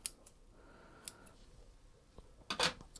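Scissors snip through plant roots during repotting, a few faint close clicks and a crisper cut near the end, with quiet gaps between them.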